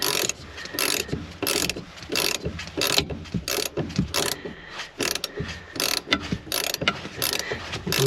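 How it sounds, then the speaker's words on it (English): Ratchet wrench tightening the 18 mm shock absorber nut on a Porsche 996/997 rear strut, a rapid series of close, loud clicking pawl bursts in a steady rhythm with no talk. "Then we can tighten the nut for the shock absorber."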